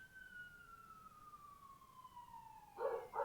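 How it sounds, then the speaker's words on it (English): A single siren tone slowly glides downward, faint and distant, played as a sound effect during a tabletop game session, followed near the end by two short, louder clattering bursts. "You hear sirens."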